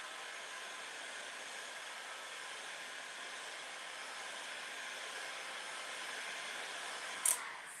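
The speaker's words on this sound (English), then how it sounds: "This is why I'm saying it is much safer to use a hairdryer." A hairdryer blows hot air in a steady, even rush that holds constant throughout, fairly quiet, with a brief sharp click near the end.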